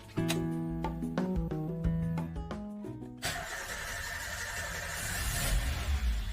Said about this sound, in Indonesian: Kita akan coba untuk hidupkan mesinnya. Oke, kita coba starter ya.